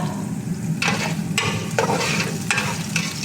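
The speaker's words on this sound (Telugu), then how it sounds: "ఎర్రగడ్డలు కూడా వేగుతున్నాయి కొంచెం వేగనిద్దాం" Onions frying in a pan for a Telugu-style curry, a steady loud sizzle broken by several short bursts of stirring, with no talking.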